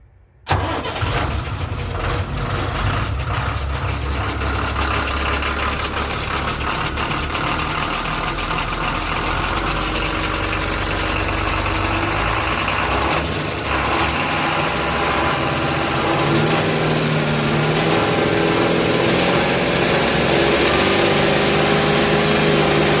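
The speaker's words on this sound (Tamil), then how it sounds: "ஸோ வண்டியோட என்ஜின் கண்டிஷன் ஸ்டார்ட் பண்ணி காமிக்கிறேன் பாருங்கள்." Engine of a used Ashok Leyland 12-wheel lorry with about 430,000 on the meter cranking and firing up, then settling into a loud, steady diesel idle that runs on unbroken with no talking.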